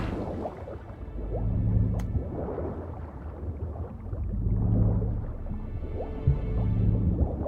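Water sloshes and squishes in a bath in the video game The Witcher 3, with repeated soft splashes and drips rising and falling in waves over a continuous low liquid rumble.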